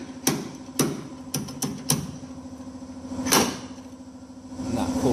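Slide hammer yanking a self-drilling screw to pull dents from a car panel: several sharp metallic knocks in a loose, uneven sequence, each ringing briefly, with a hum underneath.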